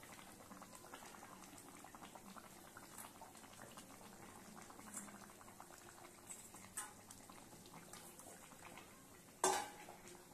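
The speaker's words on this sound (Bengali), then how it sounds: "মাছ দেওয়ার পর প্রায় 10 মিনিট ধরে আমি এবার ফুটিয়ে নেব।" Fish curry with drumsticks simmering in a pot, a quiet continuous bubbling with faint clinks, ending in a sharp metallic knock of a utensil against the pot.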